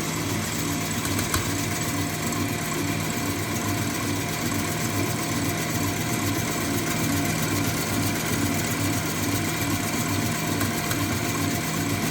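An electric mixer whips eggs at medium speed into a full foam for lime marshmallow, a steady, continuous whirring motor drone with no pauses, close and fairly loud throughout.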